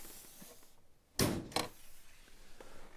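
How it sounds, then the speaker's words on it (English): Land Rover Defender hood being released and popped open: two sharp, close mechanical thunks a moment apart, the first louder, against a quiet background. "Then we're going to pop the hood."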